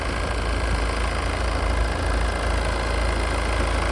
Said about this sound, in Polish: silnik pracuje równo, cicho.